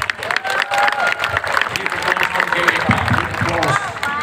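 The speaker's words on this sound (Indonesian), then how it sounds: "Tepuk tangan buat Gewa Kabupaten" A crowd at a kecak dance show at GWK in Bali claps and cheers loudly and continuously, with voices rising over the dense applause.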